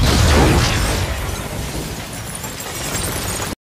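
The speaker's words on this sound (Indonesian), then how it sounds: "sebuah ledakan dahsyat menghancurkan sisi gedung" A huge explosion blasts apart the side of a building during a wartime scene in a film. It opens with a loud, heavy burst, then a long rumbling roar of falling debris that slowly fades before cutting off.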